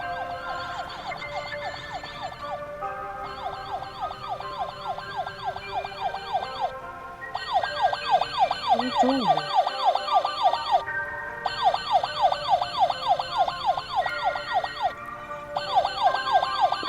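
A police car siren cycles through fast, repeated yelping sweeps, loud and close, with no voices. The pattern breaks off briefly and then resumes several times.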